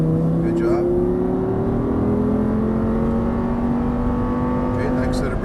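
An Audi R8 on a race track accelerates with a steady, loud engine drone whose pitch climbs smoothly throughout, a continuous close-up roar from start to finish with a voice talking over it.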